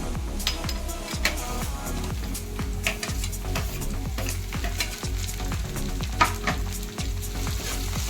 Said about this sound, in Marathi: इथे कांदा आपला मऊ झालेला आहे आता आपण ह्यामध्ये टोमॅटो घालून घेऊया